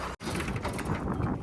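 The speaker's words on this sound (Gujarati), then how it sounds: "દ્રષ્ટિ ચલાવે છે ટ્રેક્ટર" A tractor being driven on a farm, its engine a steady, close, rumbling drone that runs almost without a break, cutting out only for a moment near the start.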